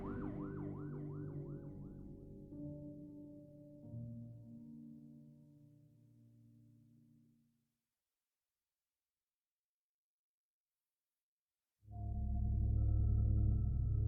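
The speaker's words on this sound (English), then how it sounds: "the sergeant heard a siren blaring" A police cruiser's wailing siren rises and falls loudly for several seconds, fades away to silence, then a loud vehicle engine roars up near the end.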